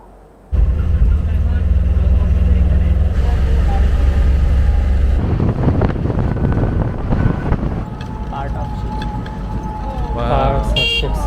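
A car drives past the shipbreaking salvage yards of Chittagong, Bangladesh, with a loud steady engine and road rumble plus wind buffeting the microphone, while people talk over it.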